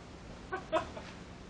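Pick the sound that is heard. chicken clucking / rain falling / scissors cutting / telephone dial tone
chicken clucking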